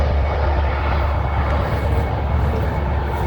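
A steady, broad roar of an airplane overhead, directly in line with the runways near Paris, loud and continuous with a deep rumble throughout, no voices.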